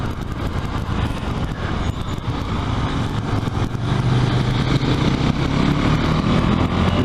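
Continuous engine drone of a KTM 390 Duke single-cylinder motorcycle being ridden hard, steady and loud with broadband wind rush, the tone building slightly in the second half.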